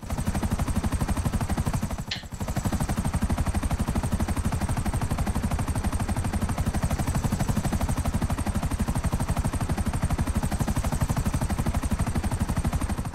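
A helicopter flies in GTA V Online, its rotor chopping in a loud, fast, continuous pulse that holds steady throughout with no voices.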